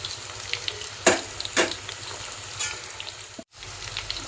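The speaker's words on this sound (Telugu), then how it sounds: "ముక్క చాలా పర్ఫెక్ట్గా వేగుతుంది పీస్" Pieces of tuna fish frying in hot oil give a steady close sizzle. A few sharper spatters and scrapes come through, and a brief dropout cuts in near the end. No one speaks.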